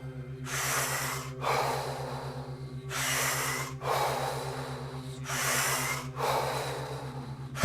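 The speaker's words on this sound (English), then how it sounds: "Just go on with the deep breathing rhythm." Deep rhythmic breathing during an energizing breathwork exercise, with forceful airy inhales and exhales alternating close to the mic, about five or six breaths over a low steady hum, with no speech.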